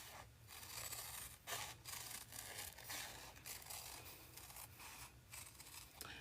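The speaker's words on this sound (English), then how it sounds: "I prefer to use my good scissors when I'm cutting" Close, quiet snipping and rustling of large scissors cutting through quilting fabric in short repeated strokes, with soft handling noises and no voices.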